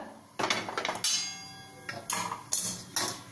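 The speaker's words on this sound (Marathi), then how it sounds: "आता तवा काढून घेते बाजूला" An iron tava griddle is lifted off the stove and set aside, giving a few sharp metallic clanks and knocks in quick succession, close and clear.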